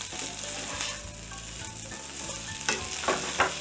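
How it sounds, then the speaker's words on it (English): Flour being stirred as it cooks in a pan for cheesesteak, a constant close sizzle with scraping utensil strokes and a couple of louder clatters near the end, no speech. "Mix that around. Well, cook that flour just a little bit,"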